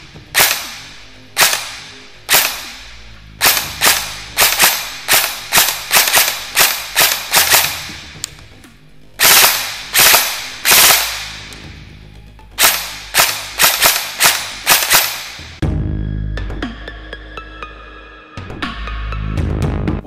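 Shots from a Ronin Saigo Defense airsoft replica with reinforced internals and a mechanical switch fire in a rapid string of loud, sharp cracks: single shots, then quick bursts. A steady whirring mechanical hum runs near the end.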